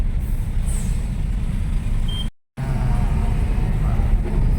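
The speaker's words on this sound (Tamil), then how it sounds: "சென்னைக்கு வரமே டிராஃபிக் ஆரம்பிச்சிச்சு" Road traffic with trucks rolls into Chennai near Poonamallee as a loud, steady engine and tyre rumble, broken by a momentary dropout before the roar resumes.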